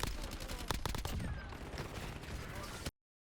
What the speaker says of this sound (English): I immediately respond to the gunfire to my right